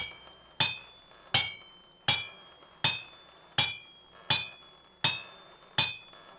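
Hammer blows ring on an iron anvil in the video game Vintage Story, eight evenly spaced metallic clangs about every 0.75 seconds, each bright and ringing with a short decay, loud and alone.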